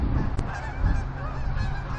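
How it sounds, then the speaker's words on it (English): Canada geese honk while flying overhead on a walk in Northern Illinois, a dense run of repeated nasal honks, moderately close and fairly faint, with no talking. "And we've got some geese flying overhead,"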